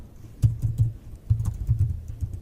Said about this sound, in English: Let me type something here.